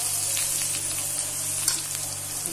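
Onions sizzle in a pan for dum aloo, a steady close hiss of frying with faint stirring scrapes over a low hum.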